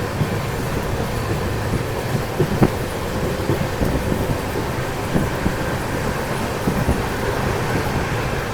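A moving passenger train heard from an open doorway: a constant rushing rumble of wheels and wind, with occasional rail clacks at irregular intervals.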